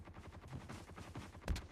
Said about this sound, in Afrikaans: die skote wat nou geskiet word daar op Stef